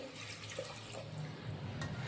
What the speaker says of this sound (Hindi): यहाँ मैं डाल रही हूँ 3 कटोरी भरकर पानी